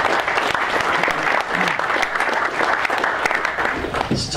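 An audience at a 2016 E-Z-GO summer meeting claps steadily for a few seconds after a finance report, a dense patter of applause filling the room.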